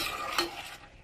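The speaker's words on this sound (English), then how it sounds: "You gotta stir these things up" Curried Brussels sprouts stirred in a frying pan, with a steady close sizzle and one brief scrape of the utensil against the pan before the sound fades slightly.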